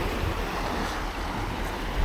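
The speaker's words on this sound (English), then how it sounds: "You can hear the sea." Sea waves washing along the Orkney coast by a lighthouse, a steady surf wash mixed with wind rush, moderately distant and continuous.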